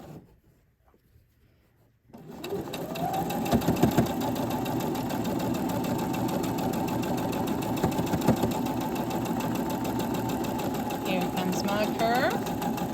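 A sewing machine runs steadily, stitching a small mini stocking along a straight seam. Its fast, even mechanical whir starts after a brief quiet opening and continues close and loud throughout.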